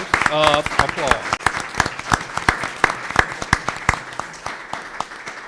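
Applause from a school board meeting audience honoring elementary honor roll scholars, individual claps distinct and irregular, with a voice speaking briefly over the opening.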